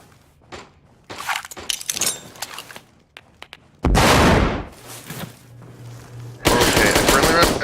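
Video game gunfire in a pistol-focused shooter: scattered sharp shots and short clicks at first, then loud sustained bursts of rapid fire, close and harsh, with gaps between volleys.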